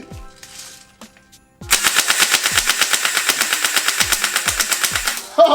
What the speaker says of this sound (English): let's do a mini little shooting test